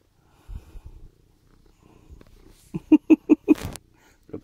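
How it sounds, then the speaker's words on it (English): A cat perched on a person's shoulder purrs and snuffles close to the ear, with a few faint rumbles followed by a run of loud, rhythmic pulses. "This cat sat on my shoulder."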